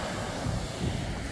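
Sea waves roughly one and a half to 1.7 metres high wash onto the shore at a fishing spot, giving a soft, steady rushing roar with light wind noise.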